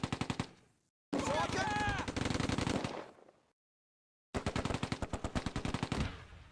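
Heavy rapid machine-gun fire in the World War II strategy game Close Combat: A Bridge Too Far, set at Arnhem. Dense rattling bursts are split by abrupt silent gaps.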